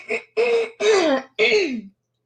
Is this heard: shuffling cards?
no